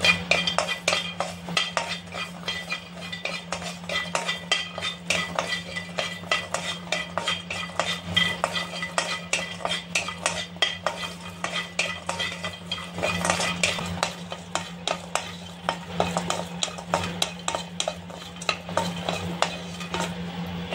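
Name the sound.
spoon transferring fried garlic onto a plate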